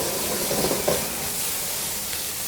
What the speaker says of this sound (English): It's just kind of stir frying in the oil.